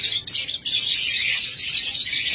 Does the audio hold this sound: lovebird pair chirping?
yes